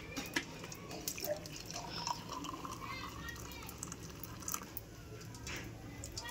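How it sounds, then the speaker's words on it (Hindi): Homemade pomegranate juice for children pours faintly into a glass, a soft, continuous trickle with light splashes under quiet background talk. "अनार का जूस मैं डाल रही हूँ"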